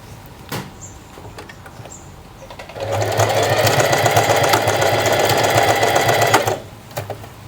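A sewing machine stitches the fabric of a tie-front top in one continuous run of about four seconds, a close, rapid whirring rattle, framed by a few small clicks and handling sounds before and after.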